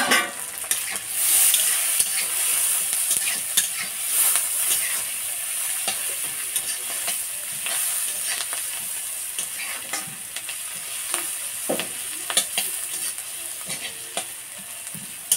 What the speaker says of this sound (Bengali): পিঁয়াজটা লাল করে ভাজি